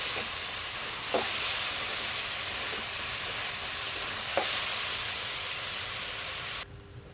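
Lentils (dal) frying in a pan, a steady close sizzle with two brief scraping stirs, cutting to quieter background near the end.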